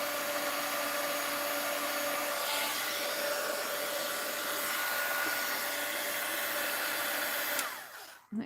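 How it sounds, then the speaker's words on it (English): A heat gun blows hot air steadily to dry paint on an art journal page, a loud continuous whooshing roar held without pause for about seven and a half seconds before cutting off abruptly. "My heat gun is real dirty."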